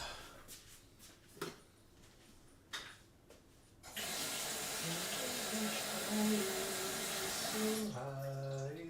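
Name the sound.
tap water filling a Brita filter jug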